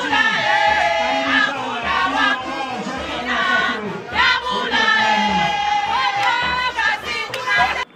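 A crowd in Likasi greeting the provincial governor, with many voices chattering, calling and cheering loudly and continuously, close by and dense throughout.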